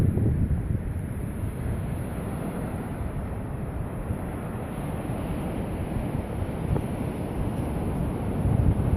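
Strong wind buffeting the microphone over steady surf on an open beach at Bodega Bay, a continuous roar with no voices.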